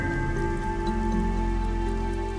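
Heavy rain falls in a steady, dense wash over a village, with a constant hiss and a low hum running underneath the whole time.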